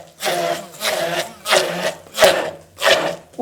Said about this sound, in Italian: mandiamo di frullatore, ma grossolano